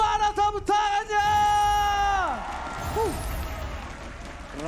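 Loud arena crowd at an MPL esports match cheering and whooping with broad applause, a sustained roar of voices swelling after a caster's shout fades.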